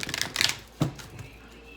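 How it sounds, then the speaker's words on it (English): Playing cards riffle and shuffle up close in a short flurry of quick papery flicks, followed by a single soft tap as the deck settles, with quiet room tone after. "I love the way these cards shuffle."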